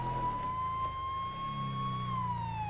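A police car siren wails steadily in GTA 5, a sustained tone sliding slowly up and back down over the low rumble of a driving engine.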